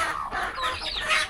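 Chickens cluck nearby in short, quick bursts, a brief lively chatter of hens.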